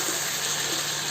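Water pours into chicken curry in a pan as a steady rushing gush, short and continuous at close range, with no voices.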